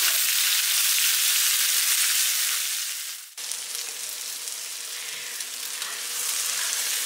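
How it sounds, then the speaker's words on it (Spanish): Onion and bell pepper sauté in a hot pan with a loud, dense sizzle that dips briefly near the middle as the food is stirred, then builds back up, close by with no voices. "vamos a dejar que se sofría bien todo esto"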